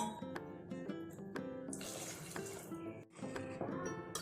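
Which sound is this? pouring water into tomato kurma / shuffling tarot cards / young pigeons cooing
pouring water into tomato kurma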